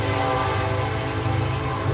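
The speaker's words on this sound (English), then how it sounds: "that train you're about to hear here in a second." Passing train with horn, a steady loud rumble with a sustained tonal horn blast running through the whole moment, close by and alone with no talking.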